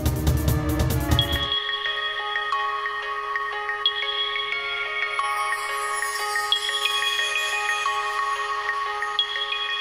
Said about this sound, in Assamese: নাতাশাৰ ফোন চাগে।